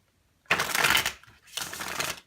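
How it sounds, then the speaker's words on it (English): Two quick bursts of tarot cards being riffled and shuffled, close and crisp, separated by a short pause. "One last shuffle for Libras"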